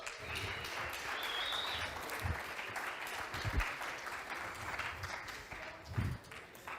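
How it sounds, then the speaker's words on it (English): A conference crowd claps for the speakers at a Bitcoin event, sustained applause with a few louder close claps and faint cheering mixed in. "Please give a big round of applause to Carliño and Ed"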